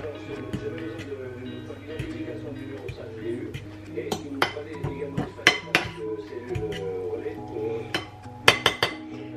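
Noodles tossed with a seasoning packet in a pan, a utensil scraping and clinking against the metal in irregular knocks that grow sharper and more frequent toward the end.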